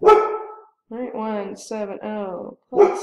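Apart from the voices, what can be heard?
dog barking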